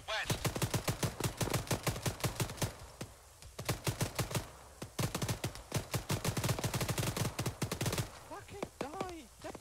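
Rapid automatic gunfire in Arma 3 rings out in long, close, repeated bursts of evenly spaced shots, with short pauses between strings and a brief burst of voices near the end.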